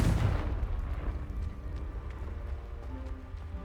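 A Confringo blasting spell in Hogwarts Legacy detonates with a loud, close explosive burst at the start, then fades into a lingering low rumble and crackle, with no speech over it.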